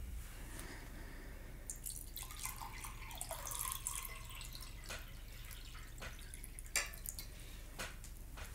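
Water pours from an IKEA pitcher into a glass as soft, quiet splashing and trickling with a few drips, close but faint in a calm room.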